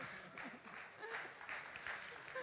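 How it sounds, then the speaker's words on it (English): Faint applause from an audience at an award announcement during a summit, a steady patter of many hands clapping throughout. "Round of applause."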